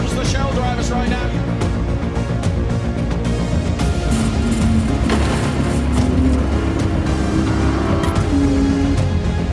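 Race cars at Le Mans roar past in a loud, continuous wash of engine noise with rising and falling tones as machines pass, under a busy crowd and trackside din.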